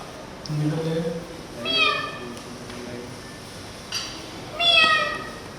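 A pet cat meows in a home, with several short meows spread across the moment and a voice speaking between them.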